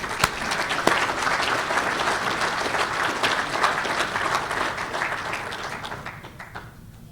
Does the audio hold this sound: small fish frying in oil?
no